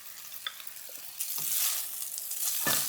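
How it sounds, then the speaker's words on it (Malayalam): Egg noodles stirred and tossed in a hot pan with two ladles for restaurant-style egg fried noodles, a steady close sizzle broken by a few scraping clatters of utensil against metal. "ഇനി ഇതിലേക്ക് നമുക്ക് നേരത്തെ എടുത്തു വെച്ച നൂഡിൽസ് ചേർത്ത് കൊടുക്കാം."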